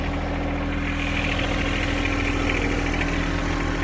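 A 2018 John Deere 1025R compact tractor fitted with a 120R loader runs its engine steadily and loudly, a close, continuous rumble with deep low harmonics that holds even throughout, with no talk.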